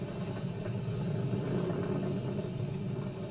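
Steady, continuous low rumble from a SpaceX Falcon 9 rocket climbing past supersonic speed during launch, heard distant and even without voices.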